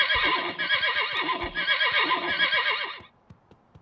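A toy horse on a stick whinnies in the video game Wobbly Life, with a long, loud, wavering neigh for about three seconds, followed by a few soft clicks and near silence.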